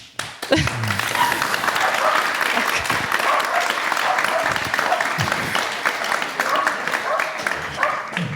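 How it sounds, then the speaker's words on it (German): Lively applause fills a room during a morning session of a Dharma basic course in Titisee, a thick, even clatter of many hands that continues throughout with faint voices mixed in. "Das ist auch Applaus"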